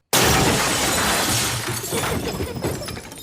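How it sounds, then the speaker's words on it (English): Framed pictures crash off the walls and shatter in a horror movie scene from The Conjuring: a sudden loud burst of breaking glass, followed by a long tail of scattering and tinkling shards. "all the pictures fall off of the walls"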